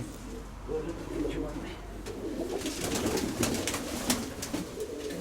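Pet pigeons cooing in a loft, a low soft murmur rolling on continuously at moderate level with a few brief higher chirps and rustles over it.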